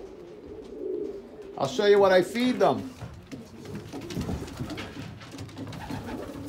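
Breeding pigeons coo in a loft, a rolling burst of cooing near the start that fades as someone speaks over soft shuffling and background rustle.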